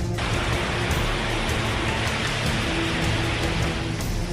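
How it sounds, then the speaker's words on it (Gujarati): Heavy monsoon rain pours steadily on Girnar mountain while rushing water cascades down its slopes, a dense, loud, unbroken roar of rain and flowing water with no voices. "પાણીનો આ ધસમસતો પ્રવાહ ગિરનાર પર એટલો વરસાદ પડ્યો કે ડુંગર પરથી આ ધોધ વહેવા લાગ્યો"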